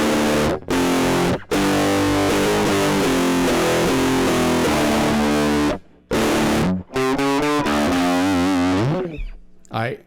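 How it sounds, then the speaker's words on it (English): Loud distorted electric guitar playing sustained chords and notes, cut by a few short silent gaps, ending with a wavering bend that fades out. "now here is a different distortion"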